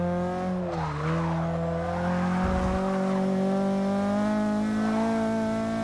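A 1994 Mazda MX5 on budget race tires skids through a turn in Forza 6, with a loud, sustained tire squeal whose pitch wavers over a steady engine drone.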